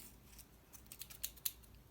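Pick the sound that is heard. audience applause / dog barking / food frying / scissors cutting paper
scissors cutting paper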